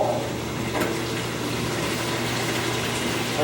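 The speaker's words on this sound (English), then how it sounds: "I'm going to fill that red bucket with 2 pitchers of boiling hot water" Boiling hot water pours from a pitcher into a red plastic bucket, a steady, continuous splashing gush with a low hum underneath and no speech.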